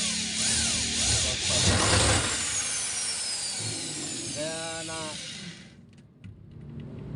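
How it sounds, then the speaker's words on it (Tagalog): Power drill boring holes through roofing during house roof repair, a loud continuous whine with rising pitch sweeps, running steadily before fading near the end, with speech mixed in. "barina yung gamitin nyo para hindi kayo mahirapang magbutas ng cutter"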